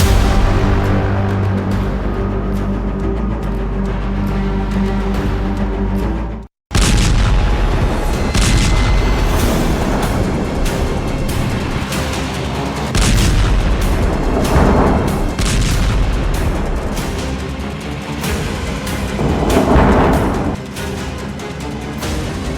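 Drone strikes and explosions hit Kyiv at night, heard as a dense, continuous roar of heavy blasts and rumbling booms, loud and close, with a brief cut to silence partway through before the barrage resumes.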